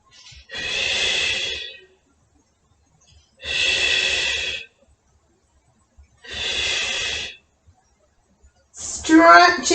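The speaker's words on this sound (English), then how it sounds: "exhale as you lift" Three slow, steady breaths during a Pilates lift with a ball, each a long, breathy rush lasting about a second, evenly spaced in an otherwise quiet room.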